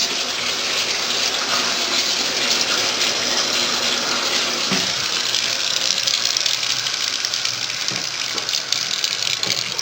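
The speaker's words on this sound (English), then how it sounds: "Faucets are on, draining." Faucets running and draining during a home inspection: continuous, loud broadband rush of flowing water throughout, steady with no pauses.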